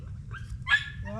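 A dog gives a couple of short, sharp barks or yips close by, over a low rumbling background.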